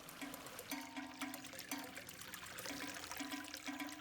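Fast-flowing stream water rushes continuously outdoors in Tai Tam Country Park, a dense, steady wash with bubbling churn, close and fairly even throughout.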